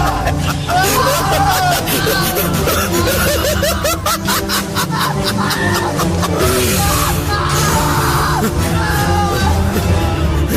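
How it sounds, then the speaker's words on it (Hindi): Terrified screaming and yelling for a horror story, a loud, continuous dense mix of shrieks and frantic cries with laughter mixed in, filling the whole stretch without pause. "विशाल के हलक से भयानक चीखें निकलने लगी"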